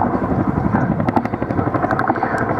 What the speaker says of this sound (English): manoeuvres the aircraft in the descent to make himself a more difficult target